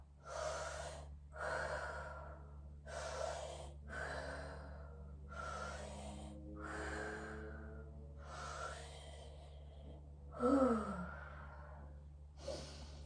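Slow, deep breaths during a fascial stretching exercise, each long inhale and exhale repeating at an even, unhurried pace over a steady low hum, with a sharper catch of breath near the end.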